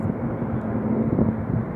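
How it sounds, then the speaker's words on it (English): A commercial jet airliner passes overhead as a steady, distant roar with a low rumble. No one speaks. "It's a commercial jet."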